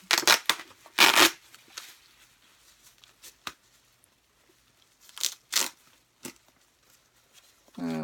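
A taped-shut package is torn open in several short, sharp ripping and crinkling bursts spread across a few seconds in a quiet room, with a brief voice at the very end.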